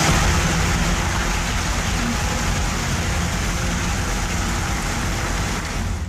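Heavy monsoon rain pours down steadily during flooding, a dense, loud and unbroken roar with no voices.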